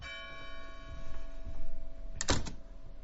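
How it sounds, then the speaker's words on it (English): A church bell tolls for a funeral in an English village: a lingering, humming ring decays before one clear, loud strike sounds near the end. "The church bell tolls for the funeral of Sister George"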